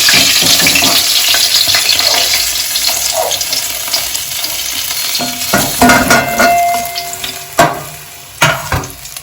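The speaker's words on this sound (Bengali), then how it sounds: "এবার আমার বাদ বাকি মাছগুলো আমি এইভাবেই ভেজে নেব।" Bhola fish fry in hot oil, a loud, bright sizzle that runs continuously while occasional spatters and utensil clatters rise sharply toward the end, with no talking.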